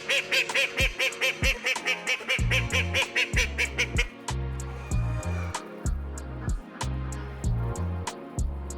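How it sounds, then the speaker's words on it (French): Ducks and geese at a poultry exhibition honk and quack in a rapid, dense chorus, with loud repeated calls from several birds close by and no talking. "Alors Mathieu, quelle est cette race de canard"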